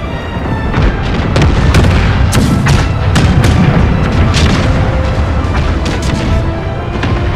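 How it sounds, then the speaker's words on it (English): A ship explodes in a naval battle in Total War: Empire, with a series of loud booming blasts and cannon-like cracks rolling over a rumbling, crackling din for several seconds. "Oh, it's going to explode."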